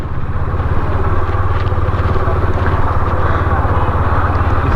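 KTM Duke 250 BS6 motorcycle engine idling nearby with a steady low rumble and light mechanical clatter throughout, continuous and fairly loud.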